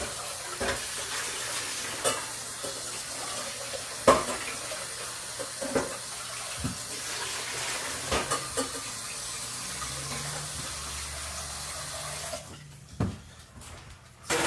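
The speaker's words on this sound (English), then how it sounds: "I'm just going to rinse this pot out." A cooking pot being rinsed out under a running kitchen tap, a steady close hiss of flowing water with intermittent clunks and scrapes of the pot before the flow cuts off near the end.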